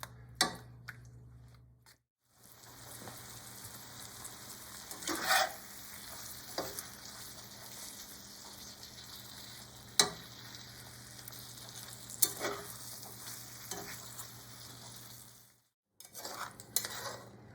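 Sausage and onions sizzle gently in a pan, a quiet steady fry broken by occasional utensil clinks and scrapes, close and without speech, with a brief gap near the end.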